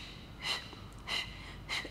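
Three short, sharp breaths taken through the nose at an even pace during a Pilates double-breath exercise, close and fairly clear over a faint background hum.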